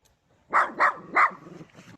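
A dog gives three quick, loud barks in a row, then trails off into a softer, shorter yelping sound close by, with no talking.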